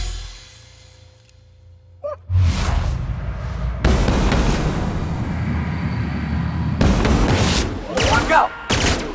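Gunfire in The Outer Worlds as the player shoots Clive at the slaughterhouse, loud bursts of shots and impacts over several seconds after a quiet start, with a voice or gasp mixed in.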